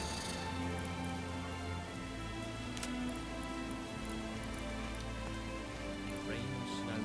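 Steady rain pattering on surfaces in the medieval city-building game Manor Lords, a continuous soft hiss with scattered ticking drops over a low ambient game hum, no voices.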